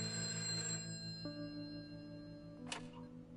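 A telephone rings in the video game A Way Out, a bright tonal ring over a steady hum, with a short sharp burst near the end and no talking.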